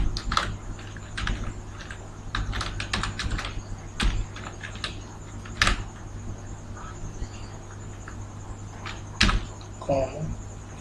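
Close computer keyboard typing while entering Python pandas code, coming in irregular bursts of clicky keystrokes with pauses between them and a steady low hum underneath.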